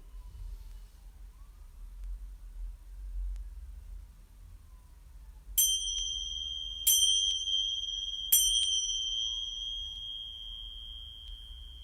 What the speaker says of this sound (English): Bells signalling time to wake up again